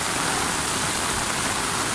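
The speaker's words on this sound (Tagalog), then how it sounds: "Lakas ng ulan, grabe" Heavy rain pouring down, a dense, even hiss of loud falling water filling the whole moment with no pauses or voices.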